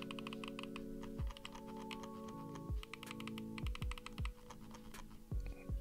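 The scroll wheel of an ASUS ROG Keris gaming mouse, which has a mushy feel, is rolled in several short bursts of soft rapid ticking, quiet and close, over a faint tonal background hum.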